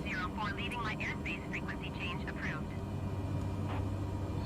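Steady drone of a Cessna Caravan's engine in flight, heard from inside the cabin as a constant broadband rumble, with a radio voice talking over it.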